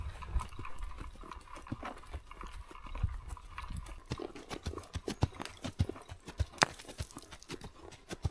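Mule hooves clip-clop on a mountain trail during a long day ride toward an alpine lake, a steady irregular series of close, sharp knocks with soft background noise and no talk.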